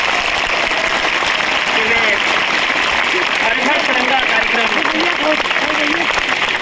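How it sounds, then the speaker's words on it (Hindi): A crowd at a Har Ghar Tiranga flag campaign programme applauds to welcome a speaker, with steady, loud clapping throughout and a voice speaking over it. "आप सभी लोग बहुत ही तालियों की गर्जना के साथ उनका स्वागत करें"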